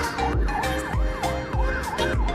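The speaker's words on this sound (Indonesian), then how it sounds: "Kasih jalan untuk ambulans." An ambulance siren wails on a road in a repeating rising and falling pattern, loud and close, with vehicle engine rumble underneath.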